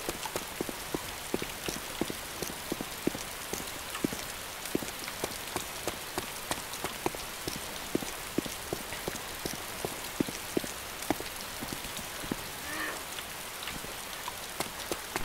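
Steady rain in the survival game DayZ patters across surfaces, with dense crackling droplets and sharp ticks spread through a broad hiss, continuous and fairly loud with no talking.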